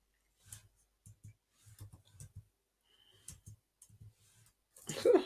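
Computer keys being typed: sparse, quiet clicks in small clusters, close and soft, ending in a louder rustle.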